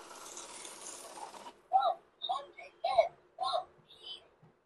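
A battery-powered currency note counting machine starts up after a background hum cuts out, then gives a series of five or six short, evenly spaced mechanical whirring bursts, fairly close and clear, with no talk over them.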